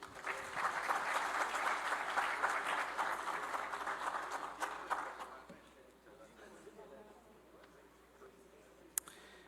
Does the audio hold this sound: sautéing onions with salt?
no